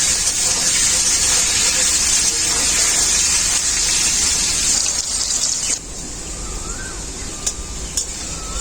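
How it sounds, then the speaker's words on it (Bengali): Potatoes fry in hot oil in a pan, giving a loud, steady sizzle and hiss that drops off sharply partway through and continues more quietly with a few faint clinks. "এরপর আলুগুলোকে ভালো করে ভাজতে থাকবো।"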